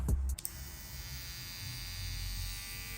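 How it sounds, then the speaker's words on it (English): A quiet electric hair trimmer buzzes steadily after a brief click and clatter at the start, a low even hum close by. "Very quiet trimmer."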